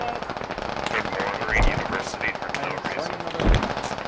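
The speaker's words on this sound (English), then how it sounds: "Careful, there's someone shooting down the bridge." Gunfire in the Squad video game, with dense automatic bursts rattling continuously and two heavier, louder volleys standing out, surrounded by busy battlefield noise.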